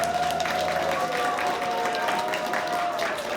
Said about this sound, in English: How about one big last round of applause for the Quercus Choir?